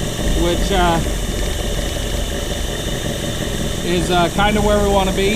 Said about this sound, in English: we're idling it around 800 to 900 rotations per minute